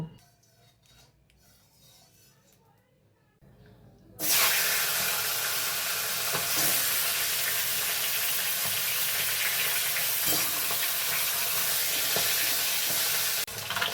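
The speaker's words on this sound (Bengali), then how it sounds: "কড়াই গরম করে নিয়ে সর্ষের তেল দিয়ে আগে মাছের মাথাগুলো ভেজে তুলব।" Fish heads frying in hot mustard oil in a wok: after a few quiet seconds of faint clatter, a loud, steady hiss of sizzling starts suddenly and continues unbroken to the end, with small pops.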